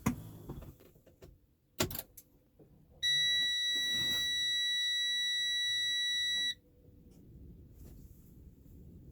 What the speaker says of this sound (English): Low air warning buzzer and light came on at 60 psi.